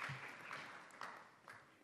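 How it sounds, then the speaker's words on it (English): Brief, faint applause from delegates in the ECOSOC chamber for Uganda's signing at a senior-level meeting, a short patter of claps that quickly tapers off. "A round of applause for Uganda."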